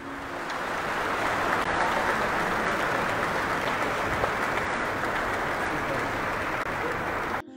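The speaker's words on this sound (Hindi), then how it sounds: "दरबार हॉल तालियों की गड़गड़ाहट से गूंज उठा" Thunderous applause fills the Durbar Hall after a transgender Padma Shri awardee blesses President Ram Nath Kovind at the ceremony; a dense, steady wash of clapping holds evenly throughout before cutting off abruptly.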